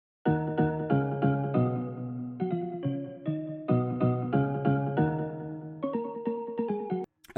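A soloed synth one-shot from a trap beat plays alone: a bright, bell-like chord stab repeated in a steady rhythmic pattern, dry and close, with the chord shifting every few hits.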